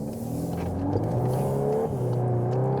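A 2022 Volkswagen Golf 8 R Variant engine revs and accelerates steadily onto a street, pitch climbing and shifting through gears, heard up close from inside with a constant road hum underneath.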